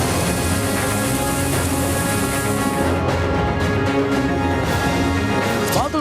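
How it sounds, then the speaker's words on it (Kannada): Heavy rain pours over Jamkhandi town in Bagalkote district during a flooding downpour, a dense, loud, continuous wash of falling water and runoff with no voices over it. "ಜಮಖಂಡಿ ನಗರದಲ್ಲಿ ವರುಣನ ನರ್ತನ, ಮಳೆ ಆರ್ಭಟಕ್ಕೆ ಸಾಲು ಸಾಲು ಅವಾಂತರ"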